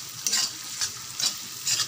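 Onion, garlic and green chili sizzle in a pan with a steady hiss, while four rhythmic stirring strokes scrape through at regular intervals, close and fairly loud.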